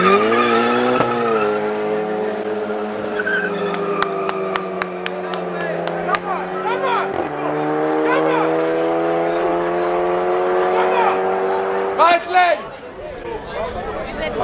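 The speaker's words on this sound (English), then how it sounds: "for the first race in the left lane, we've got an Audi. I believe it's an S3, old shape S3, going up against" Two cars, an older-generation Audi S3 and a VW Scirocco R, launch side by side at a front-wheel-drive street drag event, engines droning loud and steady with rising pitch through gear changes, tyre chirps and a shift blip near the end.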